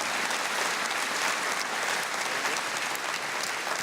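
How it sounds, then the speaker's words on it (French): A dense, steady wave of applause from a large audience at a Walloon agricultural awards ceremony honouring young farmers, sustained at even volume throughout with no voices over it. "ça mérite des applaudissements"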